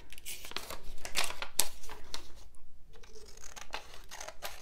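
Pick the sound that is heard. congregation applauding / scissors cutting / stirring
scissors cutting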